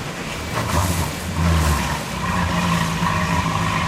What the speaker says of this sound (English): now we're going to start up the engines